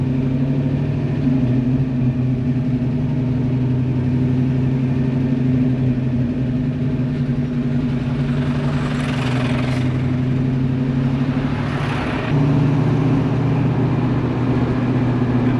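A car with newly fitted 3.55 rear gears and a limited-slip differential cruises with a steady mid-pitched engine drone and road noise, the revs shifting slightly partway through.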